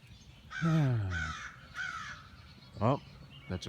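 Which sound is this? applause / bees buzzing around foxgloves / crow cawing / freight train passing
crow cawing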